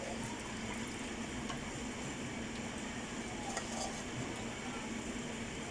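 A pot of maash (urad) lentil dal boils on the stove while foam is skimmed off the top, giving a faint, steady bubbling hiss with a few soft clinks of a spoon.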